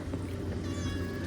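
A pet cat named Jinxie gives a brief, soft meow near a custom-built catio, faint over a steady low background hum.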